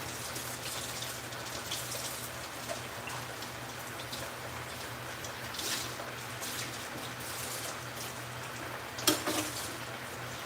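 Okra cooks in a cast iron pan with a steady, soft sizzle and crackle. The hiss is continuous, with a few brief pops, and it plays alone without any talking.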